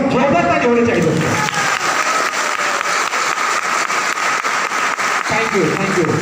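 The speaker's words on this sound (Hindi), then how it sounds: "इन सारे गुरुओं के लिए बस जोरदार ताली होनी चाहिए दोस्तों" An audience gives the gurus loud, sustained applause, dense clapping from many hands close by that fills the whole stretch, with a voice heard at the very start.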